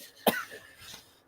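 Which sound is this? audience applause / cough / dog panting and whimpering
cough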